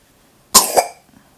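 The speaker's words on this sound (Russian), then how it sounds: "потом кашель какой-то стал сухой" A single dry cough, close and sharp, made of two quick bursts in succession, set against near-silence in a home.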